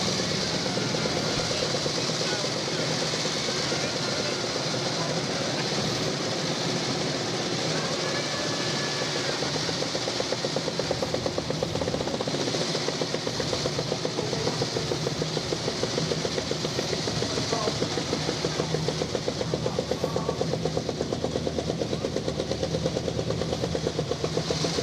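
Several vintage motorcycles set off in a continuous mix of engine noise lasting throughout, one machine making a distinctive rattling drone, with no clear speech.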